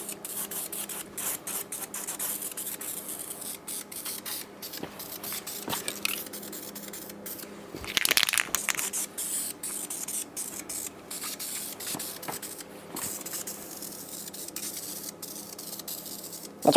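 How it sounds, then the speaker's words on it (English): A Krylon aerosol can of primer hisses in repeated short and long bursts, close by, with brief pauses between passes and one longer, louder spray midway, no talking. "I do like the Krylon cans of primer."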